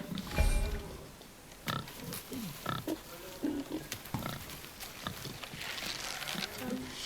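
A wild boar grunts in the God of War video game. Several short, low snorts come over outdoor ambience and game effects.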